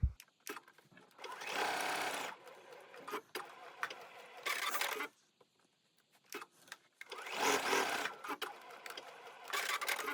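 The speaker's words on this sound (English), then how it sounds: "let's take that to the sewing machine and we'll sew right here." A sewing machine whirs in several stitching runs, fast and rhythmic, with short stops and small clicks of handling between bursts.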